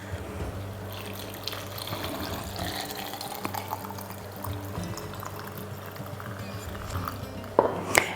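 Salt brine poured from a container into glass jars packed with green beans for fermented dilly beans, a steady close liquid splash and trickle running throughout, ending in a few brighter clinks near the end.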